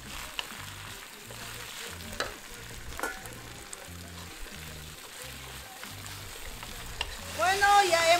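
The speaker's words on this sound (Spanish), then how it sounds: "ya hemos freído biencito la espinaca" Spinach frying in a pan with basil, parsley and salt, a steady close sizzle with occasional stirring scrapes and taps, ending in a brief louder burst of crackling.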